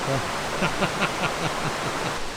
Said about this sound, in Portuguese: Esse aqui é o lugar da cachoeira.